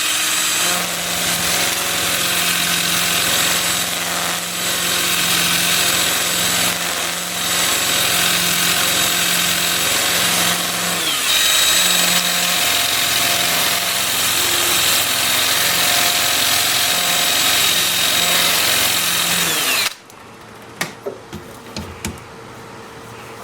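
A juniper wood vase is sanded with a Sandoflex while spinning on a lathe, making a loud, continuous whirring hum with a steady tonal drone that cuts off abruptly near the end, leaving a few light knocks.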